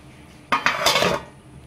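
A metal lid clatters onto a cooking pot in a home kitchen during Bengali ridge gourd fritter preparation, giving a short rattling clang followed by a brief settling jingle.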